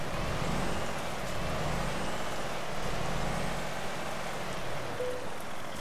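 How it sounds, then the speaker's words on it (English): In Euro Truck Simulator 2, a steady, fairly loud hiss of compressed air as a DAF XF Euro 6 lift axle raises, over a low truck engine rumble, continuing without a break. "you press the U key, you get an air noise, and up it goes"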